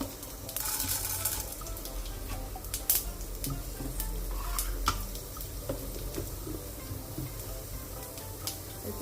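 Mustard seeds, urad dal and chana dal frying in hot oil in a home kitchen, a steady close crackle with scattered sharp pops throughout, no talking.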